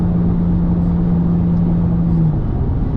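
A loud V6 Ford Mustang cruising in traffic, its engine a steady close low rumble and drone heard from inside the car, with no voices.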